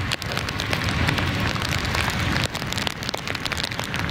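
Steady heavy rain pattering on a surface close by, a continuous dense hiss with scattered drips throughout.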